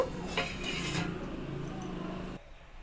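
A lid clatters onto a metal pot of vegetables in water set to boil, with clinking kitchenware over a steady background before a sudden quieter stretch near the end.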